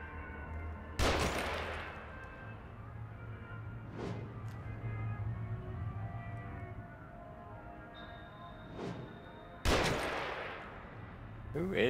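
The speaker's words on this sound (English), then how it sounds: "Who's shooting at me? I'd really like to know." Gunfire in the survival horror game The Evil Within, a few sharp, loud shots spaced seconds apart over a low, steady ambient drone, with a thin tonal whine partway through.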